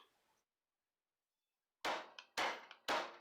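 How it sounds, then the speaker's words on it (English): A 1979 Corvette C3 rear strut rod takes three loud, sharp hammer blows in quick succession after a brief quiet stretch, each strike ringing with a short metallic clang. "we've been pounding and hammering on this here for a while"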